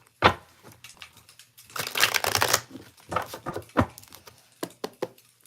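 A deck of tarot cards is shuffled roughly by hand in a quiet room, several quick riffles and slaps in irregular bursts, the card noise close and alone.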